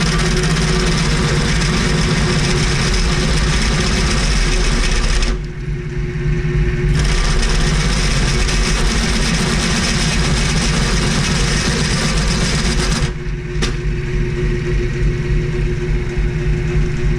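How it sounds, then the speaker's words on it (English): A 5/8 drill bit spinning fast through shim stock makes a loud, steady machine drone with buzzing chatter and vibration. The sound drops out briefly twice as the drill pauses, then resumes. "Probably going to make another machinist cry spinning this 5/8 bit as fast as I am"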